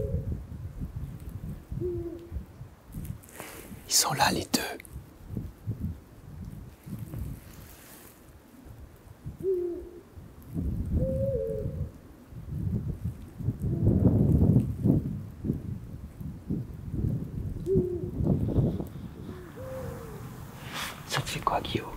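A pair of Eurasian eagle-owls hoots at night, deep repeated hoots from both birds including a higher-pitched female, moderately distant, with soft whispered voices, wind and low rumble in between.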